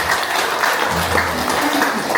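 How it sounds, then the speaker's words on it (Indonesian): An audience applauds at an ORARI amateur radio organisation gathering, a dense, steady wash of many hands clapping filling the room, with a faint voice murmuring beneath it. "Ya, tepuk tangan semuanya."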